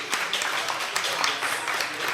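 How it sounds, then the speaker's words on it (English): Audience applause for a team at an opening ceremony, steady broadband clapping that runs the whole short stretch without a break, near and fairly loud, with some voices mixed in. "Big round of applause to these guys."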